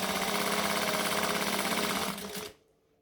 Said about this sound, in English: we're going to overlock exactly what I'm stitching.